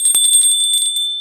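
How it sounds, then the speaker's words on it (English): A small metallic bell struck and ringing, giving sustained bright high-pitched tones with a quick burst of strikes at the start, close and loud, alone without talk. "Here I have this metallic bell."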